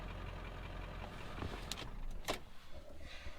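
A modified 7.3L Powerstroke diesel truck idles steadily after a long warm-up in the cold, a low continuous rumble with a couple of brief clicks and knocks over it.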